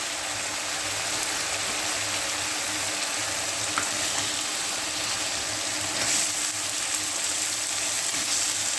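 Chicken (country chicken) frying in spiced oil in a pan while being stirred, a steady close hiss and crackle running throughout with faint scraping, no talking.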